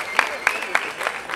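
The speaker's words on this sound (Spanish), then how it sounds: "Vamos a darle un gran aplauso" Spectators at a cosplay runway during a 2016 gaming tournament clap for a costumed participant; a few sharp claps stand out in a regular rhythm over light crowd noise, with a voice underneath.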